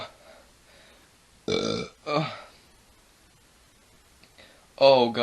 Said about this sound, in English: And that burp was